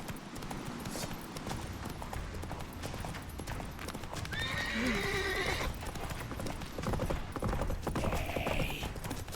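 Geralt's horse Roach in The Witcher 3 gallops with steady rapid hoofbeats, then lets out a loud neigh midway and another shorter whinny near the end, over a busy game soundscape.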